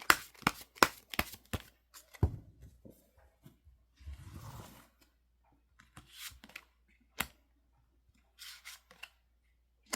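Tarot cards shuffled by hand in a quiet room, giving a few quick riffling bursts up close, then softer scattered taps and slides with long pauses between them.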